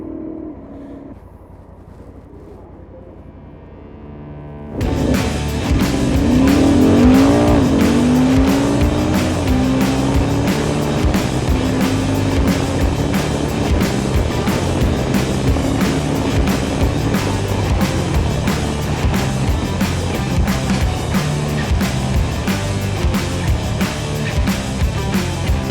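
A Honda Africa Twin 1100 motorcycle launches on a drag strip after a quiet idle, its engine suddenly roaring loud and close with a brief wheel slip, then holding a steady high-revving drone through the run.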